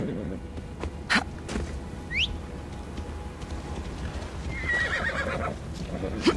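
A horse whinnies and its hooves clop in Assassin's Creed Odyssey, the neigh rising sharply near the start, with steady hoofbeats and game ambience underneath and a brief voice.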